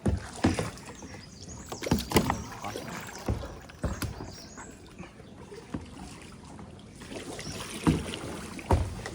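A small boat moving on water along the Konkan coast near Malvan, with soft splashing and intermittent wind buffeting the microphone, fairly quiet and close, with brief sounds of people now and then.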